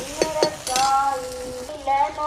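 Green chilli, garlic and ginger roasting in a pan for an aloe vera sabzi, with a few spoon clinks and stirring scrapes over a soft sizzle, and a voice speaking faintly in the background.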